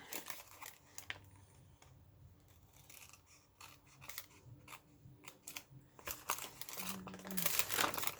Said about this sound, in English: I'm just going to cut this out to be even.